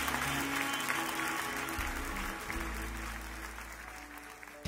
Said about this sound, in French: Est-ce qu'on peut applaudir et acclamer le Seigneur les amis?